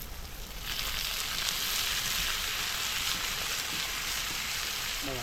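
Cleaned oysters hit hot oil in a pan on a boat and break into a loud, steady sizzle that swells as they go in and keeps crackling evenly, close up and with no one talking.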